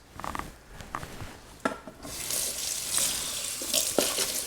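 Running kitchen tap water rushing steadily over a lobster being rinsed, with light rubbing and handling sounds against the shell, close and continuous after a brief quieter start.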